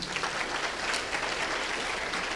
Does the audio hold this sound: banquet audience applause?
yes